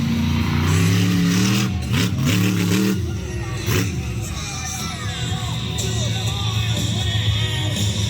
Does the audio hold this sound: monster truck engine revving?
yes